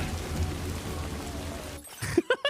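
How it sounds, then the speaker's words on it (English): Steady rain falls in the video game Death Stranding 2, a dense, even hiss that fills most of the moment before fading out as a few short spoken sounds break in near the end. "Is BB immune to the rain?"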